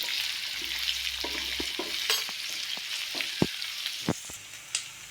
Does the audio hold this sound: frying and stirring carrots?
yes